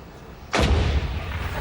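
The one o'clock cannon at Edinburgh Castle fires once with a loud, sharp boom, followed by a deep rumbling echo that rolls on through the rest of the moment.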